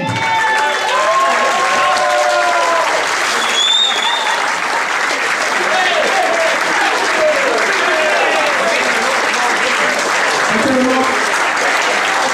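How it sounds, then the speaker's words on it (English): A crowd at a Jimmy White pool exhibition night gives loud, sustained applause for the snooker player, the clapping continuous throughout with voices and whoops mixed in. "So a massive round of applause for Jimmy the Whirlwind."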